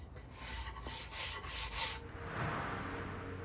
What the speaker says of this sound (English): Once it dries, I use 220 grit to sand off the fibers that ended up sticking out.